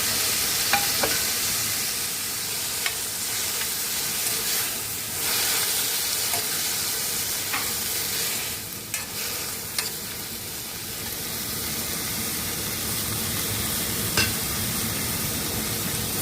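Tomato frying and being stirred in a pan while making okra palya gives a steady, close sizzle with scraping stirs running throughout. No one speaks.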